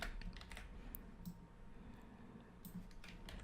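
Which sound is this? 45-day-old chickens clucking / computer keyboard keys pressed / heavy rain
computer keyboard keys pressed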